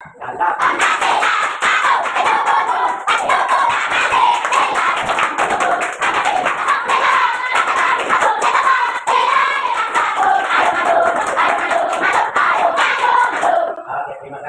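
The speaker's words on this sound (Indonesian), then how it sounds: "Kita lebih semangat lagi ya, tepuk tangan lebih keras lagi." Group of children in a classroom clapping rapidly and loudly in a steady rhythmic beat while chanting together, with the clapping continuing throughout under their voices.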